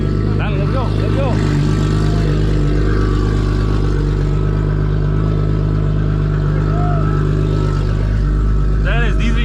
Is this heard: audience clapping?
no